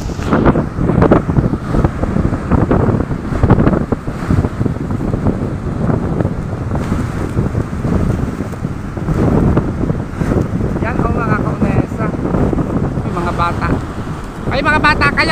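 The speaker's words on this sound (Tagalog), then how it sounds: "Grabe po ang laki ng alon" Big waves crashing on a shore behind a resort with strong wind during Typhoon Carina, a loud roaring surf and gusty wind buffeting the microphone throughout, with people talking at times.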